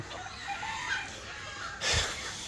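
Faint clucking of chickens kept under an elevated goat shed on a farm, over a low steady ambience, with a slightly louder squawk near the end.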